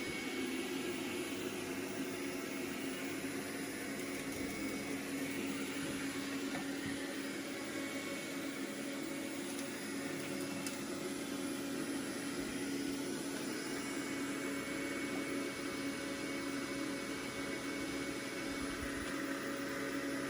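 Roborock Q5+ robot vacuum running on max suction, a steady high-pitched whirring drone that holds constant throughout, with no talk.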